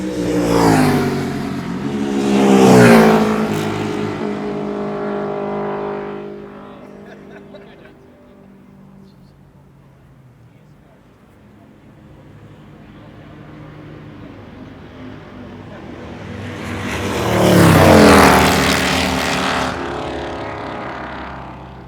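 Rarely seen racing motorcycles on demonstration laps at a track, two loud passes roaring by, first early then again near the end, engines swelling and fading with a quieter lull of distant engine noise between.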